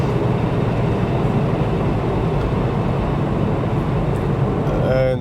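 Cabin drone from a Porsche 996 with a 3.7-litre Hartech engine while driving: a dense, steady engine and road roar with a faint whine of gears, continuous and loud throughout, under someone talking.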